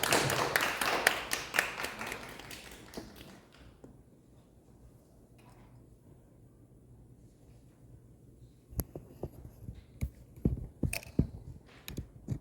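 A church youth-group congregation gives a big round of applause to welcome Brother Bongsu. Dense, loud clapping lasts a few seconds and then fades into a quiet room, followed later by scattered light taps and knocks.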